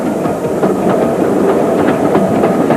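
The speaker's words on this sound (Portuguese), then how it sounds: "Quando o trem desce para a Bahia, surgem as amplas imagens da costa britânica." A holiday train runs along the railway line toward Torbay on the English Riviera, wheels clicking rhythmically over rail joints amid a steady loud rumble of the carriages, close by and without any voices.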